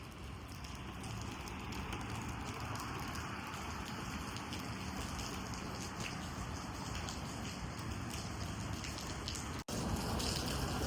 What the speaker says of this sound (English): Stop raining.